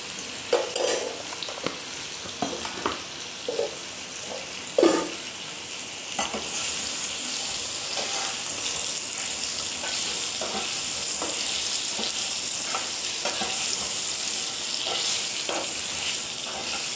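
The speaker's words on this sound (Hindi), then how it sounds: "तो आलू को हम 4-5 मिनट तक इसी तरह से फ्राई कर लेंगे।" Potatoes fry with turmeric and salt in a pressure cooker, giving a steady loud sizzle. The sizzle grows denser after the first few seconds, with occasional stirring scrapes and clinks, and no voices.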